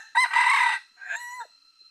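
A rooster crows loudly and close by on a mountain trail, one full cock-a-doodle-doo followed by a shorter second call that trails off.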